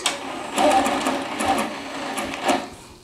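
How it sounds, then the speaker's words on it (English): Longarm quilting machine stitching along a ditch on a dog placemat, a steady close, loud mechanical whir with fast needle chatter that runs on without a break and swells slightly now and then. "So now I have to finish stitching that ditch up"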